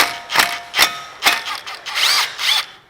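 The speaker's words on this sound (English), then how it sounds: "that bolt's pretty tight, so hopefully we don't break my socket" A tight front brake bolt on a 2007 GMC Sierra 2WD is loosened with a socket wrench: a few sharp, close straining bursts, then creaky squeaks as it breaks free. No one speaks.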